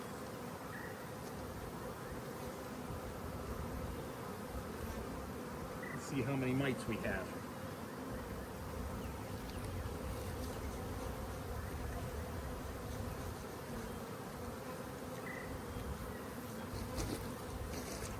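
Honey bees buzz steadily around an open hive during a spring inspection, a faint, constant hum that runs throughout, with a person speaking briefly over it.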